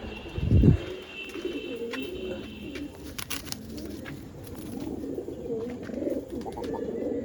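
Two fancy pigeons with feathered feet being released: a sharp flutter-like burst near the start, then soft, steady cooing that runs underneath for the rest of the stretch at moderate distance.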